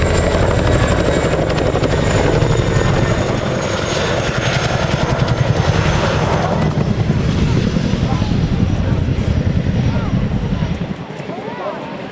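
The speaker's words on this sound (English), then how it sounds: "He'll rapidly decelerate the aircraft and turn using some pedal." A helicopter flies a display at the RAF Cosford Airshow, rapidly decelerating and turning. A loud, close, continuous rotor thud and turbine roar runs throughout before tailing off at the end, with a voice talking faintly underneath.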